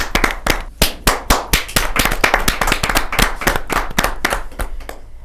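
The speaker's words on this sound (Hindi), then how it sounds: "जोरदार ताली के साथ।" Loud, rhythmic clapping from the audience at a Hindi poetry gathering (kavi sammelan) as a poet is welcomed, sharp and closely spaced, steady for several seconds before thinning out at the end.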